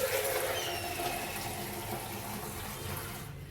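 Water is poured from a mug into a container to dye faded jeans at home. The splashing rush is steady and close and fades out at the end, with no talk.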